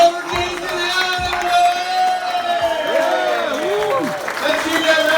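Applause and cheering from a comedy club audience at Punchlines in Saint John, a steady crowd roar of clapping with whoops running for several seconds, voices shouting over it.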